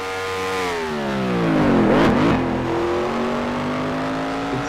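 Ferrari race car engines in a racing video game, a high, whining engine tone that rises, falls sharply as a car shifts or passes, then settles into a steady drone, loud with no talking.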